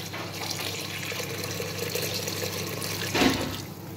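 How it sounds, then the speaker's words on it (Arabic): Hot water poured over vegetables and meat frying in a pot for a Tunisian-style vegetable stew, a steady gushing flow under sizzling, with a brief louder splash near the end. "نصب عليهم شويه ماء سخون"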